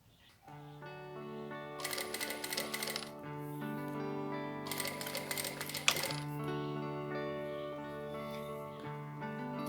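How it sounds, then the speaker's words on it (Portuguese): A sewing machine stitches along the edge of a plastic pouch, giving two short bursts of rapid clattering over a steady motor hum at low volume. "eu vou fazer a costura bem na beiradinha"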